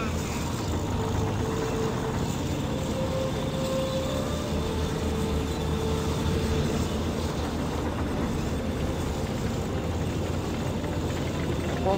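Tank engine roaring continuously at full speed in Call of Duty 2, a loud, dense, unbroken mechanical rumble with grinding tracks that holds steady throughout, no pauses.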